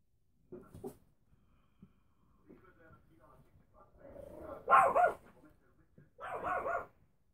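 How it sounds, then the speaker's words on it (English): A female pet dog barks in a few short bursts, the loudest near the end, from a moderate distance in a quiet room, with some faint movement noise before. "There goes my dog. She thinks she hears something."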